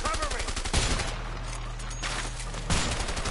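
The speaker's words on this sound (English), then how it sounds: "I just shot that guy in the face." Rapid gunfire from the video game A Way Out crackles in dense, continuous bursts, loud and close throughout, with the game's other sounds behind it.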